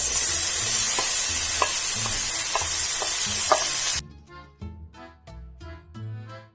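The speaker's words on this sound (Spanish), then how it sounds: "a continuación añadimos el ajo, mezclamos un poco para que el ajo se cocine y añadimos la cebolla" Garlic and onion fry in a hot pan with a steady sizzle and several sharp stirring clicks. About two-thirds through, the sizzle abruptly drops to a quieter, patchier crackle.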